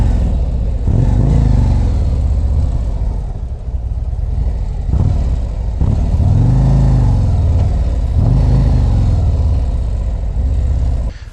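Motorcycle engine, around a 2024 Harley-Davidson Street Glide, rumbling loud and steady with low throbbing pulses and a few revving swells, continuous throughout with no talking.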